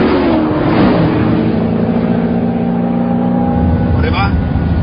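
Engine roar from a Zenvo ST1 supercar with an 1100 hp engine, a loud, close, sustained rumble rising under full throttle inside the car, with someone talking over it throughout.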